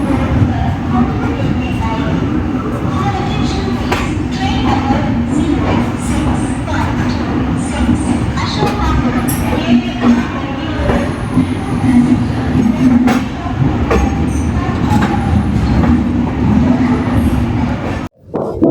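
The Mysuru–Chennai weekly superfast express rumbles along steadily, with a loud continuous rolling roar and scattered clatter and squeaks of the coaches.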